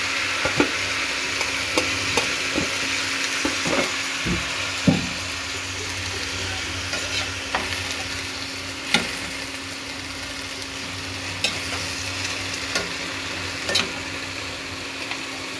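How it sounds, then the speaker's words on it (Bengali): Chopped taro and Malabar spinach fry in a pan under a steady sizzle, broken by frequent sharp clicks and scrapes of a stirring utensil against the pan. "এবার আমি কেটে রাখা সবজিগুলো দিয়ে দিলাম।"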